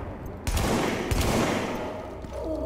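Weapon fire in The Division inside a subway morgue, two loud shots about half a second apart booming with reverberant tails, followed by a quieter stretch of ambient game noise.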